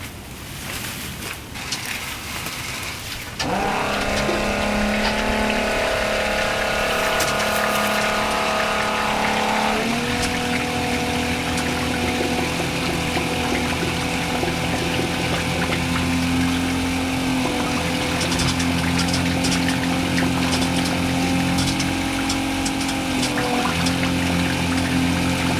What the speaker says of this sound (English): Alright, now I'm going to turn the water back on.